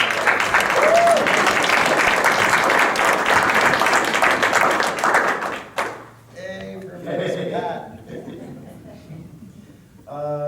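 Dense crowd applause fills the room for several seconds, then fades out into scattered voices and chatter.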